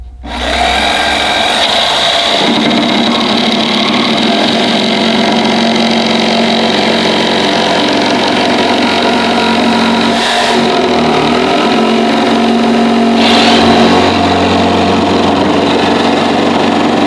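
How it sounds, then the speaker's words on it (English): Jigsaw rough cutting plywood, a loud continuous buzzing motor whine with a steady reciprocating rasp that holds for the whole stretch after a quick start, no talking. "and I mean rough cut with the jigsaw"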